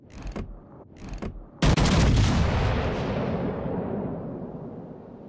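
Naval guns firing on a target in a warship video game: two short booming reports, then a heavy loud blast whose rumble decays slowly over several seconds.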